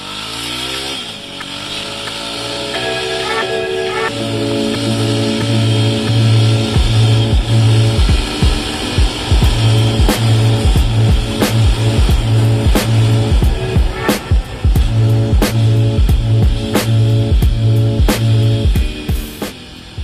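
A Jawa 42 motorcycle with a 293cc engine revs and accelerates hard through several gears, loud and close, with a throbbing exhaust note and rhythmic pulses as it pulls away.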